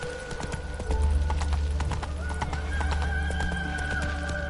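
Roach, Geralt's horse in The Witcher 3, gallops with a quick, steady clip-clop of hooves over a low musical drone, loud and close, with a brief whinny mixed in.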